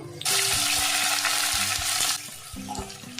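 Onion drops into hot oil with crushed cardamom and cloves for egg biryani, setting off a sharp, loud sizzle that surges at once, holds for about two seconds, then eases into quieter crackling.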